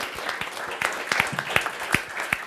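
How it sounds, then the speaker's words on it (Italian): A small group claps in a brief burst of applause, the hand claps distinct and uneven, fairly close. "facciamo un applauso ai nostri portieri"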